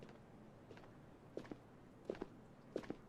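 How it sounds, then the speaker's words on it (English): Footsteps in the video game Ghost of Tabor, a few paired steps spaced about every second and faintly audible over a low background, with no speech. "Hearing footsteps, but I think it's a bot."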